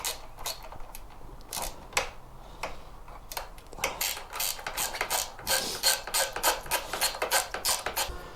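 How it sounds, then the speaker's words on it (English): Ratchet spanner tightening the smaller bolts on an SW Motech rack on a Ducati Multistrada V4S, rapid dry clicking in quick bursts, growing busier and louder, close up. "Terminal ratchet spanner."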